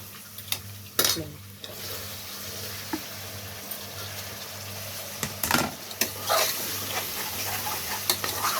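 Chicken biryani masala with tomato cooking in a pot, a steady sizzle under repeated sharp scrapes and clinks of a spoon stirring against the metal, close and fairly loud with no talking.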